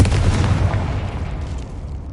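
A Confringo fire-spell explosion in the Hogwarts Legacy video game, a loud, deep boom that hits at once and then rumbles away over about two seconds.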